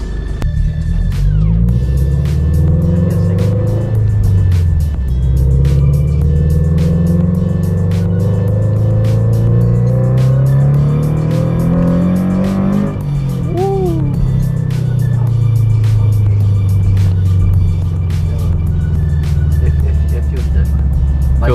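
A Subaru BRZ tuned on E85 fuel drives down the road, engine droning steadily from inside the cabin and rising and falling through gear changes, with people talking over it throughout.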